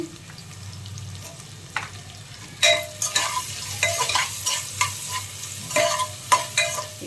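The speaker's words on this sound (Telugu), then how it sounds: "ఇది కొంచెం ఫ్రై అవ్వాలండి" Cucumber mixed dal frying in a pan, a continuous sizzle with repeated scraping stirs from a utensil, close and fairly loud, no talking.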